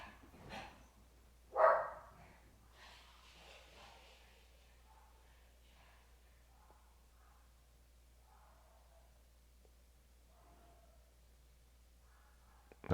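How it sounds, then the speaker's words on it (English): Dogs bark outside, heard faintly from indoors: a couple of short, muffled barks near the start, followed by quieter scattered sounds in a mostly hushed room. "Oh boy, they're barking outside."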